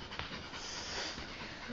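Several small dogs pant steadily and breathily at close range, a continuous fast rhythm with no talk over it, in a house where the dogs are being played with.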